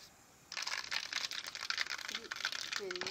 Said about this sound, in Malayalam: എണ്ണ ചൂടായിട്ടുണ്ട്. ഒരു 2 സ്പൂൺ കടുവ് ഇടുക.